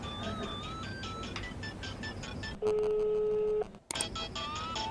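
A phone rings at home during a family meal, a single steady electronic tone lasting about a second that cuts in after people talking over background noise, then stops abruptly.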